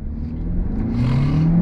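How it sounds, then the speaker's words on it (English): A 2022 Hyundai Elantra N Line pulling away from a dead stop in first gear, its engine droning low and steady, then rising in pitch and growing louder as it gathers speed over a short stretch. "I'm gonna do an on throttle from a dead stop"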